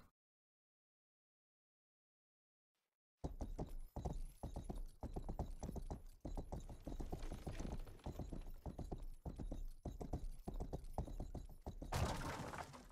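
In a video game, after a few seconds of silence, steady rhythmic clip-clop of horse hooves trots along, fairly close and even-paced, with a brief brighter swell near the end.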